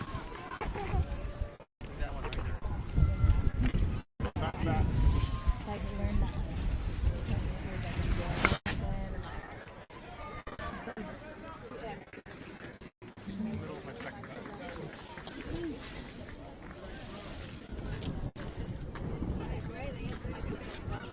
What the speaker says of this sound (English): I know, it's very windy. Very windy.